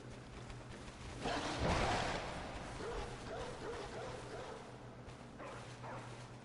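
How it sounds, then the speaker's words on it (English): Dogs in the video game Bloodborne bark and yelp in a short burst of loud barking near the start, then quieter whimpers and yips trail off against a low background hum. "So these are normal dogs."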